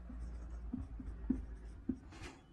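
A pen scratches out math values on paper in short strokes with soft taps, close and fairly quiet against a low background hum.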